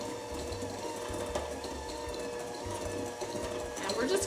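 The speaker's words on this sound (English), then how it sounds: "I'm going to use my hand mixer today" An electric hand mixer whirs steadily at close range while whipping edible cookie dough with sugar, a constant motor hum with people talking over it.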